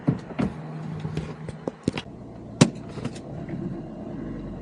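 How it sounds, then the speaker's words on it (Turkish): A truck engine being started at a depot: a sharp click and rattle, then a low idle rumble that settles into a steady hum with a few metallic knocks and a final loud clack. "marşa bastık"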